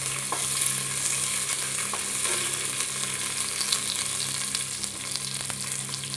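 Mustard seeds, dried red chilies and curry leaves fry in hot oil for banana blossom thoran, giving a continuous close sizzle with faint crackles and light stirring over the whole stretch.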